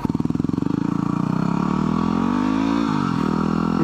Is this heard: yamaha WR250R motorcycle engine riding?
yes